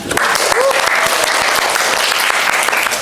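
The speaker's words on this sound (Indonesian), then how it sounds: "Tepuk tangan." Audience applause at an Indonesian lecturer certification session, a dense, steady wash of clapping that holds at full loudness through the whole stretch.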